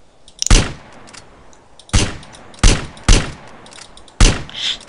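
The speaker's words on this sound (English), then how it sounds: "You're just firing constantly." Loud, close gunfire from a GTA San Andreas multiplayer match, fired in five sharp bursts spaced about a second apart with brief pauses between them.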